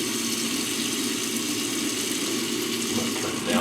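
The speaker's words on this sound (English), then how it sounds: "A little bit of hot water, rinse this off, might help." Hot water pours steadily from a tap to rinse a skull being cleaned for a DIY European mount at home, a continuous rushing splash that holds at an even level throughout.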